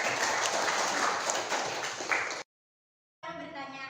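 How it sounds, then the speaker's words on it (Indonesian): Applause from an audience at a classroom presentation, a dense burst of clapping lasting a couple of seconds before cutting off, followed by a short snippet of other sound. "tepuk tangan untuk kamu"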